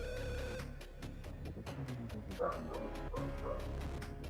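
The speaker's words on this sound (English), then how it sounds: "And my dog is freaking out." Repeated yips and barks from a dog, sharp and fairly close, spread over a few seconds against a steady background.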